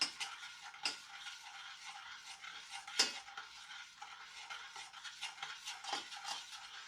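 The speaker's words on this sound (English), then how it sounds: "you are going to mix this until all the ingredients are melted together" Butter, sugar and salt being stirred together in a bowl or pot for a blueberry pudding dessert, a steady scraping swish with a few sharper utensil knocks against the side, close and fairly quiet with no talking.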